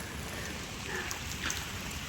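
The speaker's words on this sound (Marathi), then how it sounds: "पाऊस पण खूप डायरेक्ट कॅमेरावर पडला." Heavy rain pours directly onto a camera outdoors near a tamarind tree, a dense steady hiss with occasional sharper drop hits, loud and continuous without speech.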